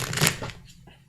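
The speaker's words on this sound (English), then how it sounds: "I like to give these cards a little bit extra shuffling because they're real slippery" A deck of slippery tarot cards gets a quick riffle shuffle, one brief crisp burst of card flutter fading out within about a second, with a voice in the background.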